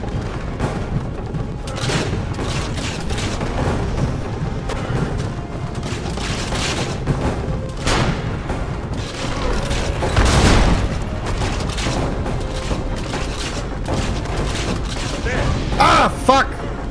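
Booming cannon fire and mechanical clanks from the video game Assassin's Creed: Revelations, several dull blasts scattered through a busy game soundscape, with a voice talking over it.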